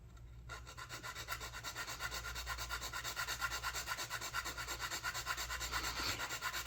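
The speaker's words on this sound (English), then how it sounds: "I'm going to sand these down" Sandpaper rubs back and forth on soft basswood rails, sanding them flush with a model boat's transom in quick, even rhythmic strokes, close and fairly quiet, with no talking.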